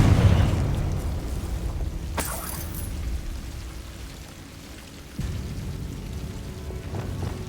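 A Confringo fire spell exploding in Hogwarts Legacy, a sharp burst followed by crackling rumble, then a second heavy impact and a sustained rushing roar.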